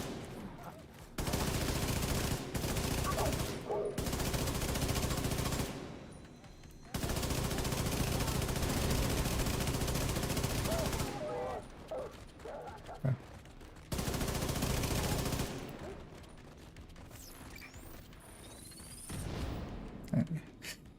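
Automatic gunfire in The Division 2, long sustained bursts of rapid shots separated by short pauses, loud and close, with quieter shots between bursts.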